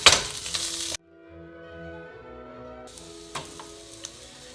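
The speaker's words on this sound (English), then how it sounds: "having them on the heat helps them just soften up a little bit and get a little bit of color and flavor into" Pine nuts sizzle in a hot pan with a soft, steady crackle, broken by a sustained musical tone in the middle and a few sharp clinks of utensils near the end.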